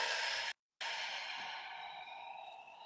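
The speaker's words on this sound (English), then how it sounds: "Long inhale and long exhale." A long, deep exhale drawn slowly through the mouth during a calm breathing exercise, close and steady, airy and sustained, briefly broken by a short gap before the breath carries on and gradually fades.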